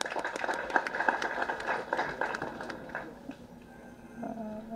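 Clapping from the audience at a Tamil film audio launch: a steady crowd applause that fades gradually and gives way to a quieter hum near the end.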